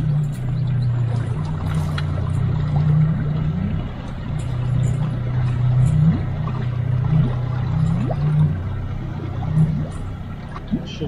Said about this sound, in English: Need to start the motor.